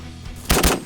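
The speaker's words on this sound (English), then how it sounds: "Nice shot, Danny." Two sharp gunshots crack in quick succession during a goose hunt, loud and close, one right after the other, with no voices over them.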